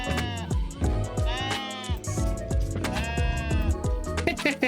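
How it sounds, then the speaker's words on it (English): Sheep in the farming games Palia and Fields of Mistria bleat repeatedly over a busy in-game backdrop, several wavering calls overlapping loudly and close. "And you can pet the sheep."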